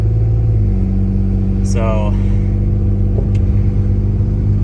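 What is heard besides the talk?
Lexus GS300 car driving off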